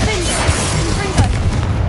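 Spell blasts crack and boom in rapid succession during combat in Hogwarts Legacy, loud and close, set against a dense wash of battle noise with a voice calling out between them.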